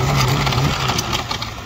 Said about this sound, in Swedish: Jag har köpt en rosa skoter.